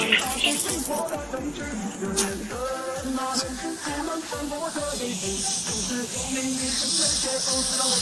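Pork liver frying in a hot wok for a ginger-scallion stir-fry, giving a steady bright sizzle and hiss over music, with occasional faint talk.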